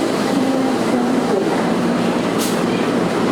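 Jermawang Express train at a station, a steady loud rumble of rail cars with a faint brief squeal, under a public-address announcement.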